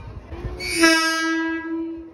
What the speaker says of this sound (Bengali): আমাদের ট্রেন ঢুকেও গেছে